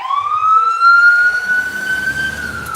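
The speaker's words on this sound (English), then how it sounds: "That's the constant wailing of the sirens" An emergency vehicle siren wails along a street at night in Envigado, Colombia, one long rising tone sweeping upward, loud and fairly near, over low traffic rumble.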